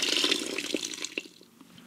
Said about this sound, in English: we're going to pour that in the bucket